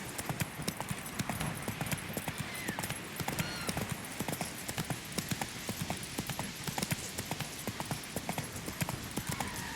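Hoofbeats of Roach, the horse in The Witcher 3, clip-clop in a steady trotting rhythm throughout, close and fairly loud over game ambience.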